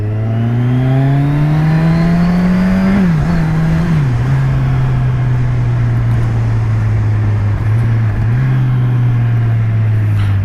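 A 2017 Kawasaki Z1000 motorcycle with an aftermarket exhaust drones loud and close at steady cruising revs, briefly dipping and wavering mid-ride before settling back to a constant hum.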